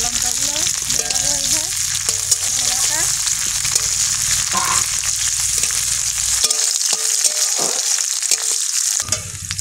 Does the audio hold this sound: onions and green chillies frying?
yes